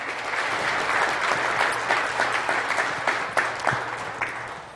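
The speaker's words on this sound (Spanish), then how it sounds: "dar un aplauso a nuestro hermano Nelson" A church congregation claps steadily for several seconds, a dense close round of applause that slowly thins toward the end.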